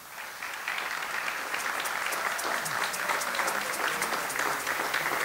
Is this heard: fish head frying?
no